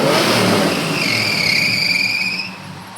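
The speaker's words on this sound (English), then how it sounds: "just mind the squeaky belt, I'll rev it up for you." A Beaumont car engine revs hard and close, a steady loud roar with a high squealing belt whining over it, then easing off near the end.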